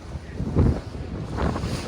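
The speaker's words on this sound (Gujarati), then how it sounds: "ચલો હવે ચાલુ થઈ ગયું છે. જો બોટ કઈ રીતના કેમ થાય છે, આખી ઉછળે છે ઉપર" A small boat rides through choppy sea off Agonda beach in Goa on a dolphin trip. A low, rumbling wash of water and wind buffets the microphone in uneven surges as the hull bounces, with no talking.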